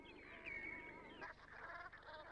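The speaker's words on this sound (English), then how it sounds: "Brent geese arrive late in the year to overwinter" Brent geese honk and call together in a noisy flock, with overlapping nasal calls heard fairly close on a southern English shore.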